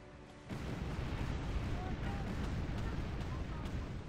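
Ship cannons fire in the pirate action RPG Tempest, setting off a heavy, continuous rumble of booming blasts that swells in abruptly and stays loud throughout.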